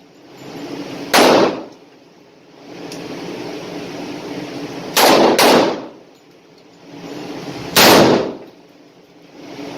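A revolver loaded with heavy .58 ammunition and fitted with Ultimate grips fires outdoors, three loud, sharp shots spread over several seconds, the middle one a quick double, each followed by a brief ringing echo.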